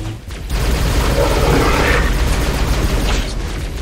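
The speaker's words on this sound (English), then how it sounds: "They just threw a grenade at it." A grenade detonates in an online video game, erupting into a loud, sustained blast with a deep rumble that holds for roughly three seconds before easing slightly.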